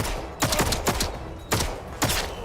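Gunfire in the video game Atomfall, several loud close bursts of shots in quick succession separated by short pauses.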